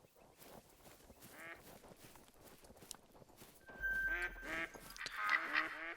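Ducks in the hunting video game theHunter quack in repeated bursts, sparse at first then louder and denser toward the end, with a low rumble and a brief tonal tone underneath and no talk.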